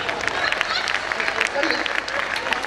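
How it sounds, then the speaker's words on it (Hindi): An audience at a silver jubilee stage event applauds the host, a brief, lively burst of clapping with voices mixed in. "तालियां आपके लिए भी होनी चाहिए।"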